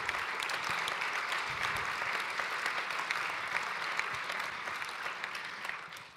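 An audience applauds at a conference closing session, a broad, steady wall of clapping that holds for about six seconds before fading.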